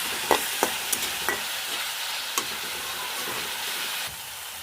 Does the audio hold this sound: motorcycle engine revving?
no